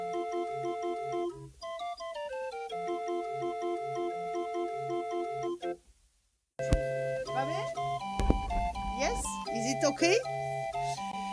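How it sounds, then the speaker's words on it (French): A barrel organ played by Monsieur Robert Cognier at a summer evening show in the Alpes-Maritimes grinds out a steady, bright melody, briefly cuts out, then returns louder with some background voices and bustle. "l'orgue de Barbarie de monsieur Robert Cognier"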